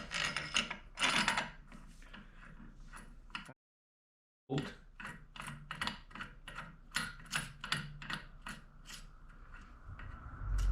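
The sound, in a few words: torquing the CVTech Powerbloc 80 clutch bolt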